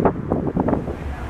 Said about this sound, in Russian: Жалко, что ветер сильный, так-то погода хорошая.